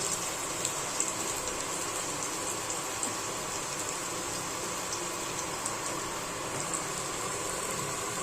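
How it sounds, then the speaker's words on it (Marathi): Garlic frying in oil in a pan, a steady close sizzle and crackle that runs unbroken throughout, with no voices. "थोडंसं चांगलं आहे ना लसूण फ्राय होऊन द्यायचं त्याच्यामध्ये"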